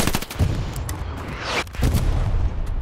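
A World War II airstrike in Hell Let Loose, with a rapid string of close, loud explosive cracks and rumbling booms dominating the short stretch.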